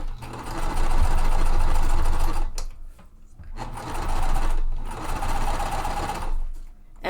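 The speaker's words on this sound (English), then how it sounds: "So again, sewing at my 1/4 inch" A sewing machine stitches a quarter-inch seam in quilt pieces, running in two steady bursts of close, loud whirring with a short pause between them.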